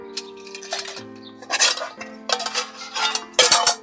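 Small stainless steel camping mess tin being handled, giving several close metallic clinks and clatters in short bursts over a faint steady hum.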